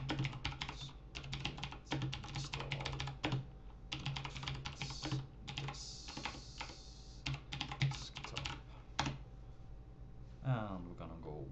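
Typing a sudo command on a computer keyboard: a rapid, uneven run of close, crisp key clicks that pauses briefly, then resumes, with a steady hum underneath.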